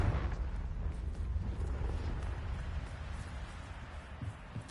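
Fiery Confringo spell blasts in the video game Hogwarts Legacy, a dense, rumbling explosive roar that stays loud and sustained throughout with a heavy low boom and crackling burst texture.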